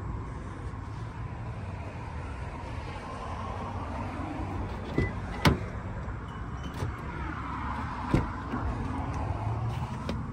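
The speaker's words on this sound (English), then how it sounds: "which is also going to let you roll this rear window down from the controls on the rear tailgate" The rear tailgate window of a 2023 Toyota 4Runner TRD Pro rolls down with a soft electric motor hum under low vehicle background noise, with a few sharp clicks and knocks along the way.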